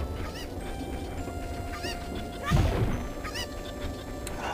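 Cuckoo chickens from Zelda: Ocarina of Time clucking and squawking in repeated short, bright calls over a busy game background, with one louder burst midway.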